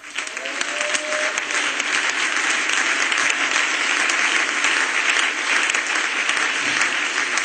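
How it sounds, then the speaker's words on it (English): A church congregation applauds during a sermon, a dense, steady wash of clapping that stays loud and even throughout with no one speaking over it. "Come on, clap your hands."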